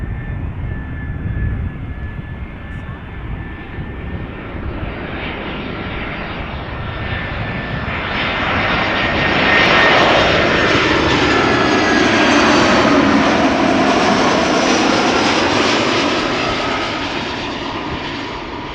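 A 14-year-old blue airliner arrives at Schiphol Airport, its jet engine roar swelling steadily from distant to loud overhead and holding strong before easing slightly, with no talking.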